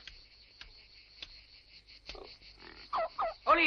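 A toad croaks outdoors in a few short, throaty calls near the end, over a steady high insect-like trill and faint ticks.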